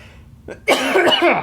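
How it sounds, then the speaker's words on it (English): A single harsh cough bursts out close to the microphone after a moment of near silence, followed by rough throat-clearing rasp. "I'm going to cough, so give me 1 second."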